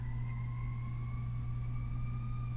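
A loud emergency siren, apparently a fire truck's, holds steady rising tones over a deep constant rumble for the whole stretch, with no talking.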